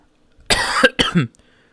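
A person coughs twice in quick succession, hard and close, each cough a harsh burst against otherwise quiet surroundings.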